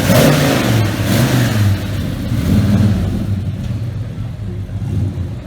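Whipple Stage 2 supercharged Gen 3 Coyote V8 in a 2019 Mustang GT, loud and close, revving and then settling into a rumbling idle with light ticking, while people talk nearby.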